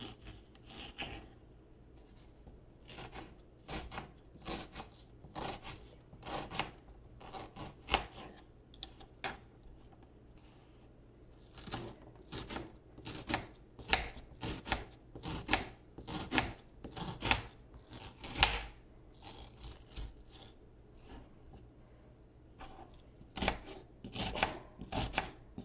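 Onion sliced lengthwise with a knife on a board, a long run of crisp repeated chops in uneven bursts with brief pauses between strokes, close and fairly quiet with no talk.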